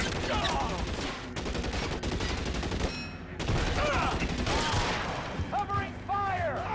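Gunfight in L.A. Noire on Switch, with repeated close gunshots and bursts of rapid fire, loud and continuous, mixed with voices talking over the shooting.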